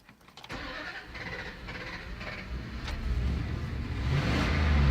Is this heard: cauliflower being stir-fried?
no